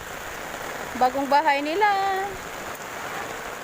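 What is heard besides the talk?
heavy rain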